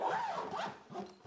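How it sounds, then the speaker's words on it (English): A portable solar panel carry case is zipped shut with a couple of quick, rasping zipper pulls, close and fairly quiet. "zip it up."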